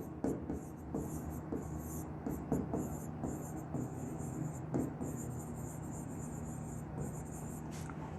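A teacher writing on a board during a physics lecture, faint steady scratching strokes in short bursts over a quiet room hum, with no one speaking.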